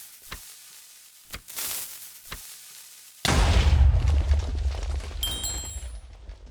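TNT cannon blast in Minecraft: a few sharp ticks and fuse hisses, then a sudden loud booming explosion with a rumbling, crackling tail that slowly fades.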